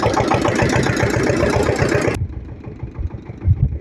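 A small tractor engine runs in a forest, a loud, close, steady chugging drone that dips somewhat quieter partway through while still rumbling on.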